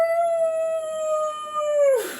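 A person imitates a dog's howl during a yoga workout: one long, steady, sustained howl held loud and close for about two seconds, then trailing off into a breathy end.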